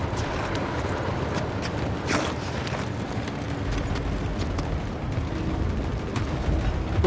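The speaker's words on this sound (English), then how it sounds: "that tank pulled up where we just were" A tank pulls up in the video game The Forever Winter, a dense, loud, continuous rumble with scattered heavy thuds and blasts running throughout, with no voices.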